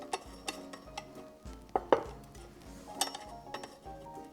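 A small spatula worked under an orange creamsicle cheesecake in its pan, giving light metallic clinks and brief scrapes at irregular intervals, close but fairly soft, in a quiet kitchen.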